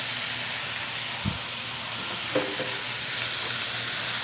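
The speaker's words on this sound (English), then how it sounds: "In here, I have just about finished cooking the diced other half of the onion, the jalapeno, and the garlic. And now I'm going to add the drained beans." Drained pinto beans go into a pan of sizzling diced onion, jalapeno and garlic, a steady loud frying hiss broken by a couple of brief stirring knocks, with no talking.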